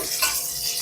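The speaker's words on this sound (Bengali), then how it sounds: "পনিরটা এখন আমি উল্টে দেবো" Marinated paneer frying in hot oil for chili paneer as the pieces are turned, a brief, steady, close sizzle with soft crackle and no voices.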